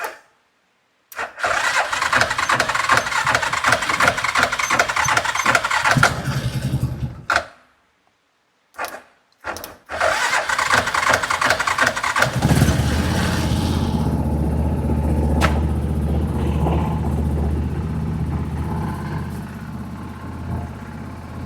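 A UTV engine cranks in bursts, sputters and stops a few times, then catches and settles into a steady, rumbling idle close by.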